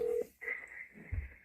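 A telephone test line rings through central office switching equipment: a faint tone cuts off, then a steady ringback tone holds under a low thump, heard quietly over the handset.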